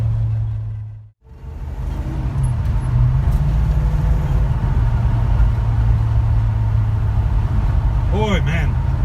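A restored 1970 Plymouth Roadrunner with a 440 Six Pack V8 and four-speed manual cruises with a steady, loud engine drone, broken by one brief dip; a faint voice surfaces near the end.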